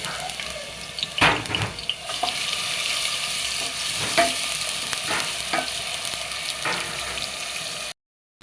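Onion paste fries in hot oil with a steady close hiss and sizzle, broken by spoon stirring scrapes and taps, ending abruptly, with no talking.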